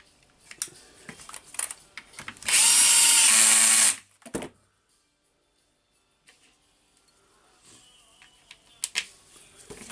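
A power driver running a screw into a Hitachi DH40MR rotary hammer during assembly, one loud steady whir of about a second and a half, followed by a short click and quiet handling noises.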